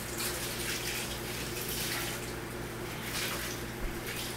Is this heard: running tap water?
yes